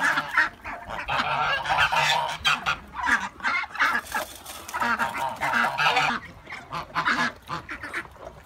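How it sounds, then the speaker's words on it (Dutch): A flock of geese at an animal farm in Dokkum honks loudly and continuously, with overlapping close calls in uneven bursts and brief pauses between them. "De ganzen vind ik heel erg geweldig"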